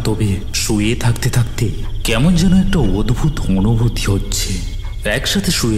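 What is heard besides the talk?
crickets chirping outside at night, cartoon sound effect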